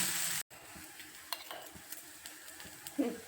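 Bhakari flatbread placed on a hot tava griddle gives a faint, quiet sizzle, with a few light scraping and handling knocks.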